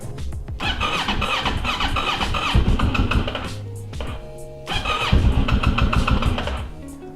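A Kawasaki Ninja 650 motorcycle engine cranks in two long bursts, the starter whirring and squealing loudly up close, with a brief quiet pause between attempts and no catch.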